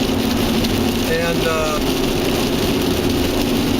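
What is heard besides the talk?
rain falling while driving to Mackinac Bridge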